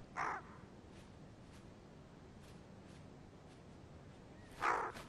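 Two loud crow caws, one at the start and one near the end, separated by a quiet stretch of faint outdoor ambience in the Carpathian mountains.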